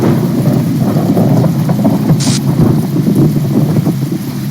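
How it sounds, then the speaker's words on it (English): Thunder rolls through a storm in The Talos Principle, a loud, low rumble that swells and fades, with rain and wind hissing underneath throughout. "Yeah, and hearing the thunder rolling in"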